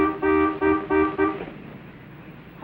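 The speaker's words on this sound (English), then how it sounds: "I'll bet you anything he honks for service and Elizabeth has to calm him down." A car horn honks four times in a quick, even rhythm, fairly close, followed by the quieter rumble of a vehicle.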